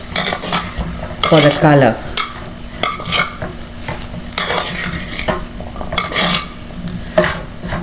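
Jackfruit seed curry with Kashmiri chili powder stirred in a pan, a spoon scraping and clinking against metal over a steady sizzle, close and continuous, with a voice speaking briefly.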